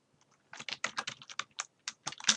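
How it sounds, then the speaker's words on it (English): Quick, close keystrokes on a computer keyboard in an uneven burst of about a dozen clicks, with no voices and a short pause before the final few taps. "I'm going to type in a space and type in continued"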